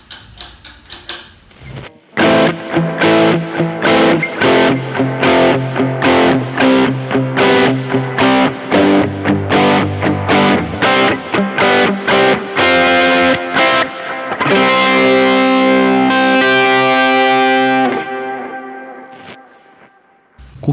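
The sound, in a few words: electric guitar with reverb and delay effects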